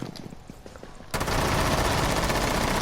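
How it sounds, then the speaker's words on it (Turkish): Rainbow Six Siege gunfire from a GSG9 operator's weapon: after a quiet moment, a loud, sustained automatic burst erupts and rattles on steadily, with no voices. "Bir de silahın tepmesini gösterelim."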